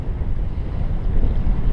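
Steady, loud wind roars across the microphone on an anchored boat in a North Carolina anchorage, a low rumbling gust with no pauses and no voices.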